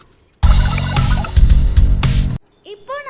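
Water poured into a wok in a home kitchen while making egg curry, a loud steady splashing gush lasting about two seconds that then stops abruptly, close up, followed by a faint high squeak.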